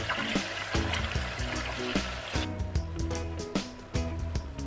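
Crumbled sausage with salt is stirred in a pot for a Sunday ragù, giving soft wet squelches and gentle scraping in an irregular rhythm, close and moderately loud.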